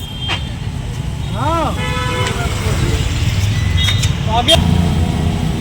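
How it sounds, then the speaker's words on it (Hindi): Engines rumble through a crowded night market street in Delhi, with a motorbike passing close amid traffic and several short horn toots ringing out, while people talk nearby. "पीछे से भी बाइक आ रही है"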